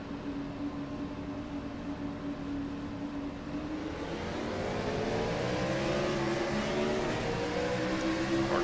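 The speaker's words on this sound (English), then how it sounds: "Definitely spun the tires." A race car in iRacing at Dover with its engine revving up as the tires spin, a steady mid-pitched drone rising and growing louder toward the end, heard alone.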